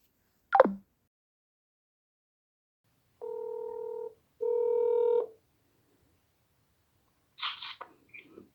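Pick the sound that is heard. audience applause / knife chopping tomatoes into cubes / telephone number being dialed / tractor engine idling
telephone number being dialed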